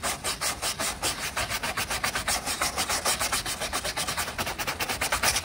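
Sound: old residue being rubbed off a 1995 Toyota Corolla part

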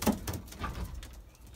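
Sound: young Belgian racing pigeons cooing

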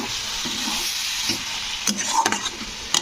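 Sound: stirring green tomato curry with spice paste in a pan

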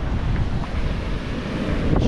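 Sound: wind blowing on the beach

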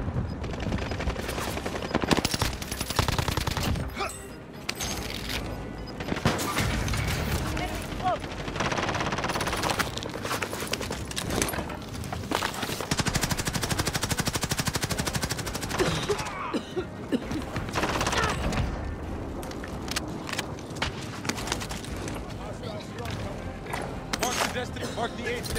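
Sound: gunfire in the video game Call of Duty Warzone

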